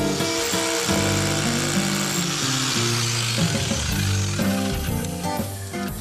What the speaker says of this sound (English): Then Phil sets up his hammer drill and begins boring holes at each mark.